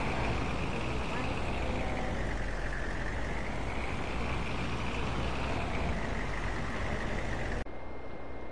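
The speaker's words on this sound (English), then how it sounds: "Now we're gonna move this header trailer out of the way." A farm vehicle in Farming Simulator 22 moves a header trailer, its engine droning steadily and loudly with a sustained whining tone until it cuts off near the end.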